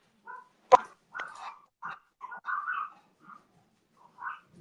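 Puppies whimper, yip and bark in short separate bursts while wanting to be let in, with one sharper, louder bark among softer whines, heard fairly close indoors.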